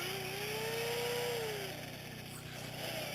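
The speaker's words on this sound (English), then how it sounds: "The first step is to drill holes through both trunks with a 3/4 inch drill bit." Drill with a 3/4 inch bit boring a hole through a tree trunk outdoors: a faint, steady engine-driven drone with a rising then falling whine, heard from a distance.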